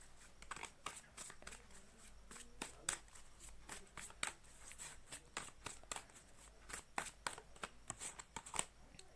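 Tarot cards being shuffled by hand in a quiet room, a long run of crisp, rapid papery riffles and flicks with brief pauses, close and fairly soft, no talking.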